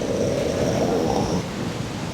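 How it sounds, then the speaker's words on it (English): Deep, loud thunder rumbles overhead in a continuous low roar that swells briefly, then eases slightly toward the end, with no voices present. "The thunder's almost gone."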